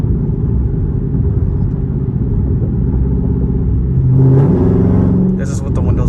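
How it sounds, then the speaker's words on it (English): A deep, steady catless V8 exhaust rumble from a Dodge Charger Scat Pack Hemi, heard from inside the car with the windows up, swelling briefly as the engine revs up. "So this is the sound of my car."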